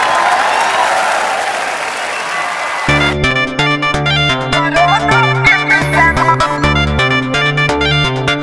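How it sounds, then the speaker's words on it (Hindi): Studio audience applause and cheering on a comedy talk show, a dense crowd roar that gives way after about three seconds to loud rhythmic music with a steady beat. "तो जोरदार तालियों से स्वागत कीजिए"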